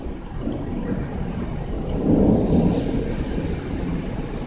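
A rolling rumble of thunder from a summer thunderstorm over Amiens, France, swells in the middle and then fades back into a steady low roar of rain and wind.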